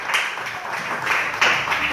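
Church congregation applauding during a worship service, a brief burst of steady, moderately loud clapping from many hands, with a voice faintly underneath.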